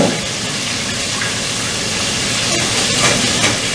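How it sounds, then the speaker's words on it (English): A steady, loud hiss and crackle of food frying in hot oil, continuous throughout with a few sharper pops. "when you're deep frying, be careful not to splash around too much, right?"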